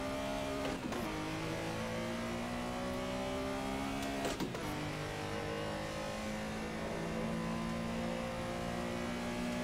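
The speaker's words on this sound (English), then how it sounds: "That was a blown shift." Racing game car engine at Silverstone during a blown gear shift, a loud steady engine drone whose pitch lines dip sharply twice as the shifts stumble, then resume climbing.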